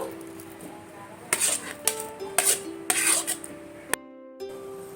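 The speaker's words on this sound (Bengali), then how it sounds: "এবার আমি একটা মিক্সিং জার নেব এই যে জারের মধ্যে আমি এইগুলো দিয়ে দেবো" Raw mango pulp goes into a blender mixing jar with a string of clinks and scrapes of a spoon against the jar. A sharp knock is followed by a brief hush and faint ringing.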